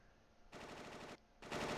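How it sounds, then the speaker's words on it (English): Gunfire in Final Fantasy 8: two bursts of rapid, dense shots, the second louder and closer, separated by a brief pause. "What was that? Gunfire."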